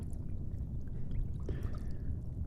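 Icy water pours into a cup, a soft liquid splash and gurgle under a low background rumble, with a short clink partway through.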